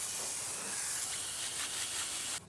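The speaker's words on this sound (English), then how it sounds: "Spray, spray, spray." Wheel and tire cleaner sprayed onto a car wheel during an at-home wash, a steady loud hiss of spray held for a couple of seconds before cutting off abruptly.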